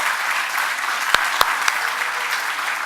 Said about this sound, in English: give a round of applause for Bill and Andy and everybody else that made this possible